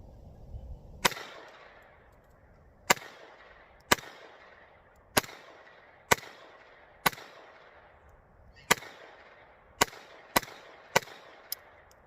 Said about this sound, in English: we'll shoot this target a little bit more